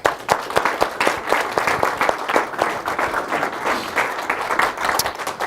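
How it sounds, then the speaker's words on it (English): Audience at a Chino city council meeting gives a round of applause after the Pledge of Allegiance, with close, distinct hand claps forming a lively, steady patter. "Let's give them a round of applause."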